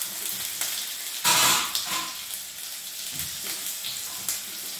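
Chopped ginger fries in hot oil in a pan along with curry leaves, a steady close sizzle that swells into a louder crackling burst as it is added, then settles back to a continuous fry.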